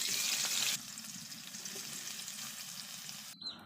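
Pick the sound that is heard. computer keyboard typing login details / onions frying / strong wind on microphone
onions frying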